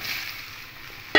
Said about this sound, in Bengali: এই সয়াবিনগুলো দিয়ে খুব ভালো করে নাড়াচাড়া করে একটু ভেজে নেব।